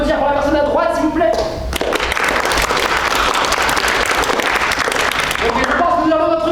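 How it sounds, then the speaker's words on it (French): Audience at an improv comedy show bursts into loud, dense applause after brief talk, sustained for several seconds before a voice returns near the end. "Est-ce que vous pouvez applaudir pour la personne à droite, s'il vous plaît?"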